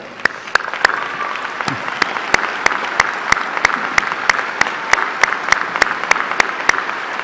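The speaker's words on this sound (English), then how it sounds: "let's give them a round of applause" A crowd at a commencement ceremony applauds steadily throughout, a dense patter of clapping that holds at a moderate level from start to finish.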